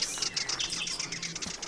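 Agitated birds calling in quick bursts, a busy run of high chirps and tweets, with soft wing flutters, close and lively throughout, with no speech.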